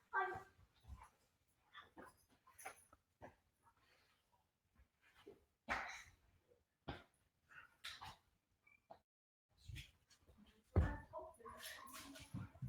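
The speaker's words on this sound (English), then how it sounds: "Stop playing with the dog right now." A dog whimpers and lets out small yips while being played with indoors, the short, scattered whines coming and going in quiet bursts with brief gaps between them.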